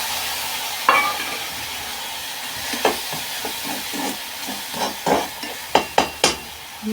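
Spices being sautéed in a pan as chili powder goes in, a soft steady sizzle broken by sharp scraping stirs and clinks of a spoon against the pan, no voices.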